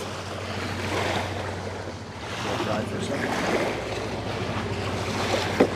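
Waves from a passing barge wash and surge against the shore or a small craft, a steady broad rush of water with wind buffeting the microphone and a low engine-like hum underneath.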